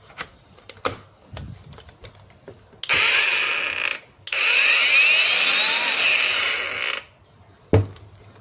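Clicks and handling come first, then a Kyoal cordless angle grinder with a soft-start feature is switched on. It runs in two close, buzzing bursts with a short pause between them, and a final click follows.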